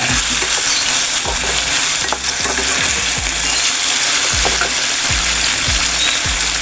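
Curry leaves drop into hot oil and sizzle loudly for a puri masala, with a continuous crackling fry and repeated scraping stirs of a spoon against the pan at a steady rhythm.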